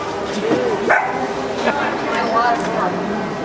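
A beagle at a grooming session gives short yips and barks mixed with whimpers, close by and partly under people talking nearby.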